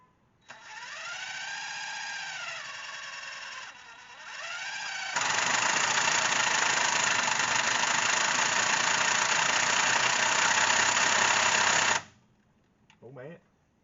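A 1972 Roadrunner engine, valve covers off, cranks with a whining, wavering tone and then catches into a steady, dense running roar that holds for several seconds before cutting off abruptly.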